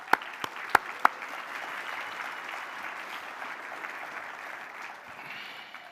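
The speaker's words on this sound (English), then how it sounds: "just want to give a round of applause to all the youth in the room" Applause from a conference audience at a closing plenary, a few sharp close claps at the start, then a steady moderate wash of clapping that fades slightly toward the end.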